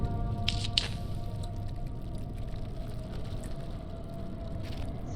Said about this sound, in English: It sounds like water.